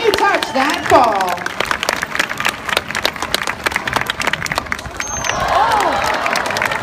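A lively crowd at a sea lion show cheers, whistles and claps steadily for the performing sea lion, loud and continuous, with shouting children and excited voices rising over the applause.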